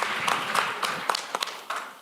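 Audience applause during a session at an automotive aftermarket franchise expo, a short burst of scattered, fairly soft claps with a few louder hits across about two seconds, no voices over it.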